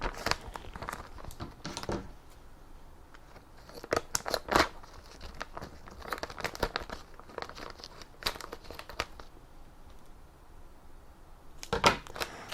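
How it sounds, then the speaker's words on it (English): Intermittent snips and crinkly crunching of scissors cutting through transfer tape, several short bursts with pauses between, close and fairly loud, no talking. "I don't know why my scissors aren't working."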